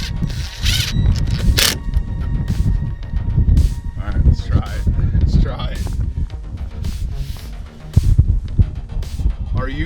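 Ratchet tightening the two bolts on a car seat mount, heard as close mechanical clicking and ratcheting mixed with rustling and handling noise, with a few sharper clicks, under intermittent talk.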